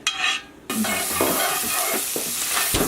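Butter chunks hitting a hot frying pan for blueberry banana pancakes, a near, loud hiss that bursts in after a brief quieter moment and then sizzles steadily with faint scraping, no voices.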